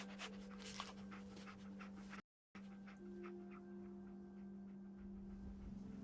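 Dogmeat, the dog companion in Fallout 4, pants steadily at close range with soft rhythmic breaths and faint whimpers, over a constant game ambience hum and no talk.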